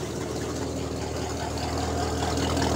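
Steady, low idle from a 1969 Pontiac Bonneville's 428 four-barrel V8 with a throaty exhaust, even and continuous at close range with no other sounds over it.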